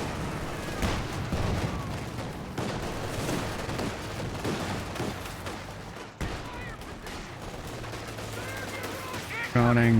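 An MG42 machine gun fires in a video game, with long rapid bursts of gunfire over a busy battle soundscape and occasional distant booms, while a commentator talks throughout.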